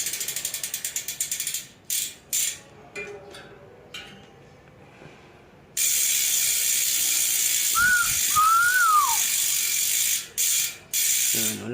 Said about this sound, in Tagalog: Yan, yung tunog ng Hope pag walang kaset.